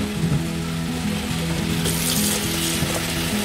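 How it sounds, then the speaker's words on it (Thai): Cold water runs steadily from a kitchen tap to rinse freshly cooked pasta, a continuous close hiss and splash with a faint underlying hum. "อันนี้เป็นการน็อกนะเพื่อนเปิดน้ำเย็นนะ"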